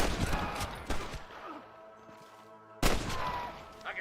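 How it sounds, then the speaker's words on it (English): Bursts of gunfire in the video game Red Dead Redemption crackle in quick succession, loud and close, with a quieter lull before another sharp volley. "I can hear more gunshots."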